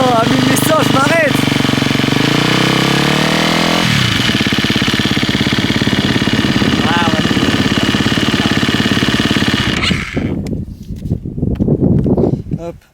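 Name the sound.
250 EXC-F dirt bike engine idling at 2000 rpm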